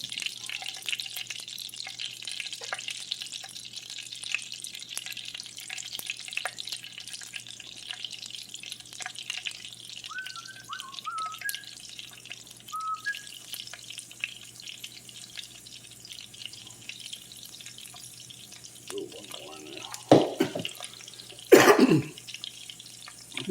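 Shrimp frying in oil for salt and pepper shrimp, a low continuous crackling sizzle with some clatter and a few louder bumps near the end.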